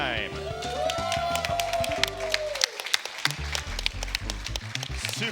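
A crowd claps and cheers for the Donkey Kong Country Trilogy speedrunners, steady applause running under a host's voice and the game's music, with sharp individual claps popping through throughout.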